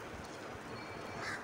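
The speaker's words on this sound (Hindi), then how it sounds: "जब चिड़ियाँ चहचहाती हैं तो उनकी आवाज़ें, मैं अगर वीडियो भी बना रही हूँ तो तब भी मुझे अच्छी लगती हैं" Birds call outdoors in a faint, steady stream of caw-like cries, set against a soft background hiss.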